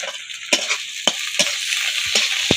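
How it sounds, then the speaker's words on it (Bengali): Onion and tomato sizzling in a pan, with a spatula scraping and knocking against the metal several times in an irregular rhythm, close by. "পেঁয়াজটা ভাজা হয়ে গেছে আর এই যে এখন টমেটোটা কেটে রেখেছিলাম ওটাও দিয়ে নেবো"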